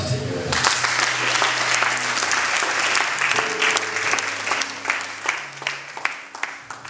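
A church congregation applauds in a dense, sustained burst of clapping that thins toward the end, with voices talking underneath.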